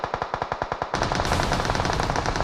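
Automatic gunfire in PUBG Mobile (BGMI): a rapid, evenly spaced string of loud shots, then a denser overlapping burst from more than one weapon, close and continuous with no talking.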